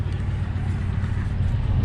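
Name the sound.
truck engine idling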